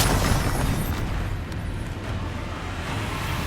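A Confringo blasting spell explodes in Hogwarts Legacy, a loud broad blast that opens strongly and decays into a sustained rumbling roar.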